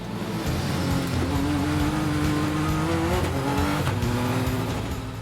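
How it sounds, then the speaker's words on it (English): Sébastien Loeb's Pikes Peak record car brakes hard from about 247 km/h into a left hairpin, its engine roar loud and close and the pitch stepping down through downshifts. "here big braking for hairpin left"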